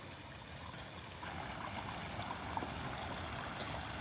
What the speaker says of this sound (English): There's that beautiful waterfall again.